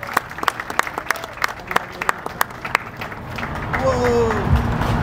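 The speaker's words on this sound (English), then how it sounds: "Please, another round of applause." Scattered hand claps build into applause from a small group at a bakery and cafe grand opening, with voices and cheering rising near the end.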